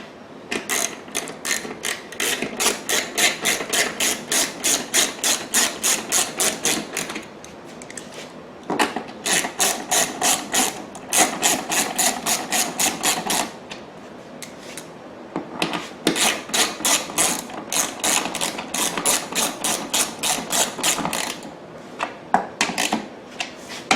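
A power driver runs bolts into the underside of a Predator 3500 generator, several bursts of rapid whirring and ratcheting, each a few seconds long, loud and close with short pauses between.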